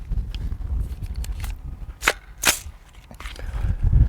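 A rifle fired one-handed, a single sharp report near 2.5 s with a smaller crack just before it, heard close against a low rumbling background.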